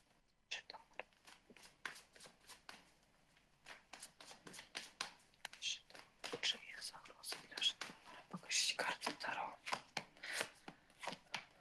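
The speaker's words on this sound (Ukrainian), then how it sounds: "Дивіться, по Житомиру, що я бачу. От тут от одразу дивіться, які гарні карти." Tarot cards being shuffled and riffled in quick bursts of crisp, papery snaps, close and fairly quiet, with soft whispered speech in between.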